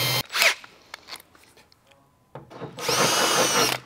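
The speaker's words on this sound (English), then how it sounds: "Small drill bit for a pilot hole." A power drill bores a small pilot hole in a metal van door, with a short high whine near the start and a louder sustained burst of drilling toward the end, the quiet gap between holding faint handling noises.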